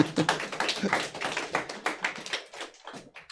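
Audience members clap at a village leaders' school lecture, a fairly close burst of uneven hand claps that thins out toward the end, with no talk over it.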